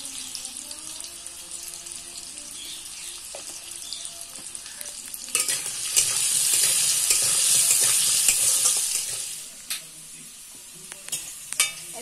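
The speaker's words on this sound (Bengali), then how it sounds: "আলুগুলো ভাজা হয়ে গেছে।" Potatoes frying in oil with salt and a little turmeric in a pan, a steady close sizzle with occasional stirring scrapes, swelling louder for a few seconds in the middle.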